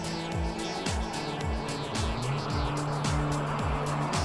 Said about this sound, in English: And I'll go ahead and let this car down the street there do its thing.